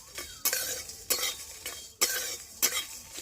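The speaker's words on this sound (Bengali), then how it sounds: "এবার এই শুকনো উপকরণটাকে সবার প্রথমে আমি এই শুকনো কড়াইতে ভেজে নেব" Whole dry spices roasting in a dry kadai, stirred in quick scraping strokes about every second, with a light dry rattle between strokes, close and alone.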